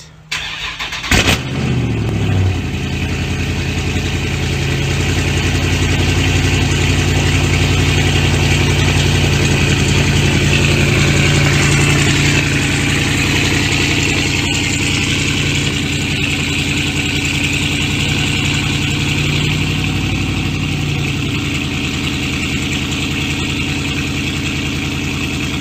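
Dodge 392 V8 fitted with JBA long-tube headers cold-starts with a sharp crank and burst, then holds a loud, rumbling high idle up close for over twenty seconds, easing slightly toward the end with no talking.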